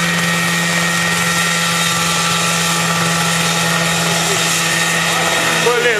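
A homemade helicopter built in 1979 flies with a steady, loud engine and rotor drone holding a constant pitch throughout, close by and unbroken.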